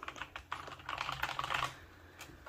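Rapid, light key clicks from the flush keyboard of a Freewrite Alpha typewriter device, sparse at first and then a dense burst of typing before trailing off to a few taps.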